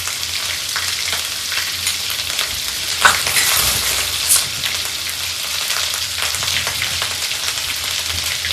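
Masala of ginger, green chili and garlic frying in a pan, a steady bright sizzle with stirring scrapes and a couple of louder spatters, close and without talk.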